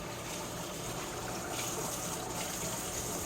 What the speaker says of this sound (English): it doesn't take much effort to prep this chicken. But you do want to rinse it.